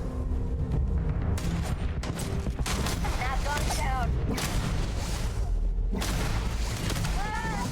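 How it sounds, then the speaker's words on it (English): A grenade and gunfire in the sci-fi video game Starfield, with loud, continuous booming blasts and rapid shots in a dense firefight, some voice activity mixed in. "That was my best attempt at a grenade toss."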